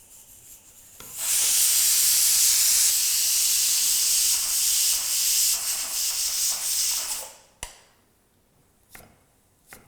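A pressure cooker whistle, cooking pav bhaji, lets out a loud, steady hiss of escaping steam for several seconds, then cuts off, followed by a couple of faint clicks.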